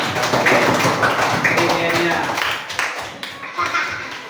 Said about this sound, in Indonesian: tepuk tangan untuk Salpa